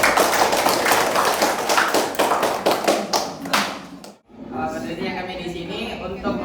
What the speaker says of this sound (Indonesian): Tepuk tangan dulu untuk kelompok maju